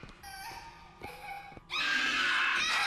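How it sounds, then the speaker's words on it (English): A woman screams in the video game BioShock Infinite: Burial at Sea, faint wailing cries at first, then a loud, sustained, shrill scream in the last second. "Those are the screams of success."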